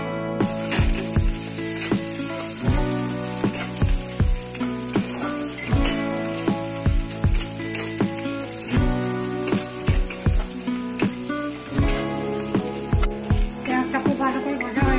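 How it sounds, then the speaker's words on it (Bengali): Pointed gourd paste fries with spices in a pan, a bright crackling sizzle with stirring under rhythmic background music with repeated thumping beats. "এটাকে মশলার সঙ্গে একটু ভালো করে ভেজে নিতে হবে"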